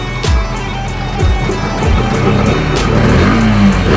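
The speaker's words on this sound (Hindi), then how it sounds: "इसमें लगा है 125 सीसी का इंजन, जो इसको देता है पावर।" A homemade rocket bike built from scrap runs on a 125 cc engine, with a loud, continuous close-up drone and repeated rushing swells, like a small motor pushed hard.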